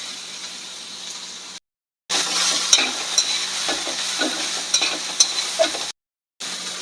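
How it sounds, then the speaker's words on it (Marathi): Mixed vegetables including cabbage stir-fried over a high flame for street-style chicken hakka noodles, a loud continuous sizzle with repeated scraping strokes of a spatula, broken by two brief silences, no talk. "सगळ्या भाज्या हाय फ्लेमवरती परतून घ्यायच्या आहेत, म्हणजे फास्ट ठेवायचा गॅस"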